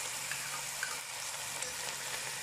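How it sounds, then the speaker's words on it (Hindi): Ginger garlic paste frying in hot oil gives a soft, steady sizzle, faint and continuous with a few tiny pops, no talking. "इसमें मैं डालूँगी अदरक लहसुन का पेस्ट"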